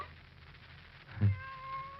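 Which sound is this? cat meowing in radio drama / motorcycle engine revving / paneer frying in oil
cat meowing in radio drama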